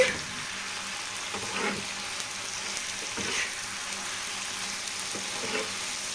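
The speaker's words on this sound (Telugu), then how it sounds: "ఇప్పుడు వీటిని అయితే రెండు వైపులా మంచిగా తిప్పుకుంటూ ఫ్రై చేసుకోవాలి" Prawns fry in hot oil in a pan while being turned over on both sides: a steady, close sizzle with occasional scraping and stirring sounds, and no voices.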